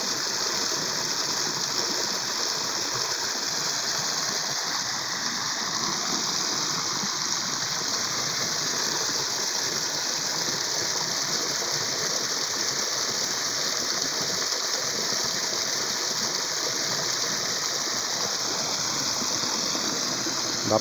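A pool's small cascade pours from a 100 mm pipe, giving a steady, close, full rushing splash of falling water that holds level for the whole stretch with no voices over it.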